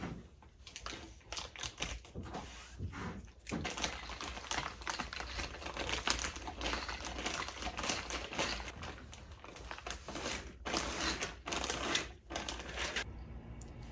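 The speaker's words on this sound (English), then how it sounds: "Carefully remove the plastic sleeve from the track" A plastic sleeve is pulled off an R-TEC Automation single splice track with continuous close crinkling and rustling, broken by small ticks and scrapes throughout, and nobody talking.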